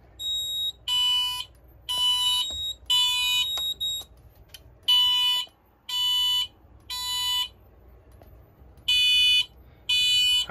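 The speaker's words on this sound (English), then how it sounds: "you can hear how the tone on the alarm changes" A Wheelock MT electronic fire alarm sounds a Code 3 tone in repeated bursts of harsh buzzing separated by short pauses, fairly loud and steady in rhythm, with no talking.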